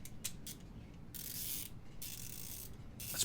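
A TONE 72-tooth compact-head ratchet clicks as its handle is swung back, giving fast, fine, faint clicking in a few short bursts against a quiet low hum.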